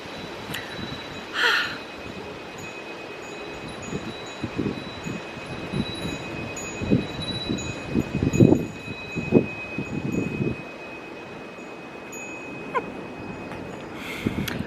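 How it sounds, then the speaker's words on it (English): Wind blows outdoors on a breezy day, buffeting the microphone in irregular low rumbling gusts with occasional rustling, loudest in the middle stretch. "filming outside on a breezy day."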